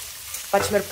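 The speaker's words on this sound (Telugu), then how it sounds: "ఫ్రై అయిపోయి ఇప్పుడు ఆనియన్స్ వేసుకుంటున్నాం. అండ్ పచ్చిమిరపకాయలు" Sliced onions and green chillies hit hot oil in a pan for an ivy gourd fry, a short sizzle rising abruptly after a quiet moment, with a voice-like tonal sound over the frying.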